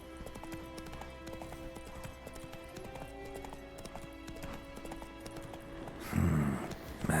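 The horse Roach trotting in The Witcher 3 video game, a steady rhythmic clip-clop of hooves under game music, ending in a louder burst of movement.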